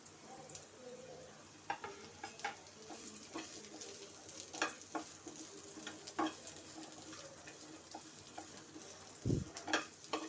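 Sliced onions fry in oil in a pan, a quiet close sizzle with scattered light ticks and stirring scrapes and one brief thump near the end.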